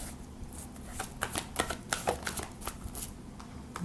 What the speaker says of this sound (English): One more card.